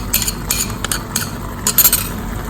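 Mustard paste is stirred into a mushroom curry in a pot: a few scattered metallic clinks and scrapes of a utensil against the pan over a soft background hiss, with no talking.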